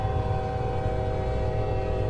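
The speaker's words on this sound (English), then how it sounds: "Oh, it has an interesting horn." Truck horn in American Truck Simulator that sounds like a train air horn, one loud, steady multi-tone blast held without a break, layered over low engine rumble.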